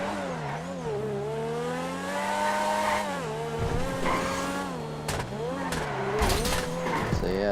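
A Principe Deveste Eight supercar in GTA 5 drives hard with a loud, rising and falling engine whine that shifts through gears, plus bursts of tire squeal and scrubbing on corners, loud and continuous.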